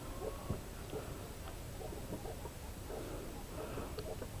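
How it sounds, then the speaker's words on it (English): A puffed-out broody hen making soft, repeated clucks, fairly faint over steady outdoor background hiss, with short low calls spaced irregularly through the moment. "She's all puffed out and doing the clucking noise."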